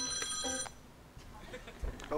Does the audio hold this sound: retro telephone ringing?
yes